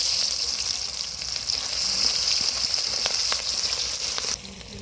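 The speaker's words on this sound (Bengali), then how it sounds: "কেটে রাখা পেঁয়াজটা দিয়ে দিব" Chopped onion dropped into hot oil with whole spices for a mutton curry, sizzling and crackling loudly and steadily close by, with a few sharper pops before the frying eases slightly near the end.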